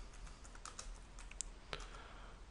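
Quiet keys clatter on a computer keyboard while someone types a search, producing a short, irregular run of soft clicks with no talking.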